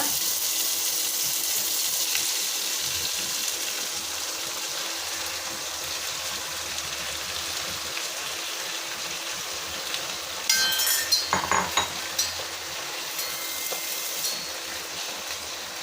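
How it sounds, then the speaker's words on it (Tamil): Soaked basmati rice goes into a pot for veg pulao and is stirred, giving a soft steady sizzle with a brief burst of clinks and scraping near the end. "அரிசி போட்டு இப்படி கொஞ்சம் கிண்டி விட்டுக்கோங்க"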